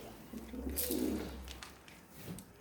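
Pigeons cooing inside a communal loft of birds with taped wings, a few soft, low throaty coos close by against a quiet background.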